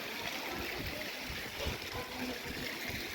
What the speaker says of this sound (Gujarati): પાણી સુસવાટા એવું જ આવી જાય.